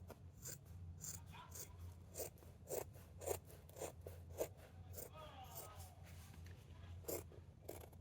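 Scissors snip through clothing in a quiet indoor spring clean, a series of close, crisp cuts at irregular intervals over a low steady hum.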